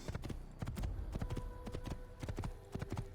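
Horse hooves in the Assassin's Creed video game, a rapid clip-clop of galloping strikes in quick repeated clusters, fairly close and low, with a faint steady tone running beneath.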